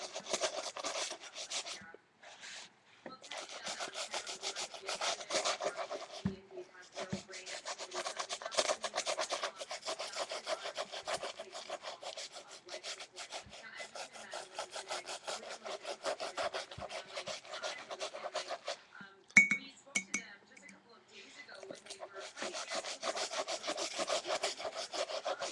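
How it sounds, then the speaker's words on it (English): Steady back-and-forth scrubbing on a wooden surface, continuous rhythmic rasping strokes close up with a couple of brief pauses, no talking. "Start scrubbing again."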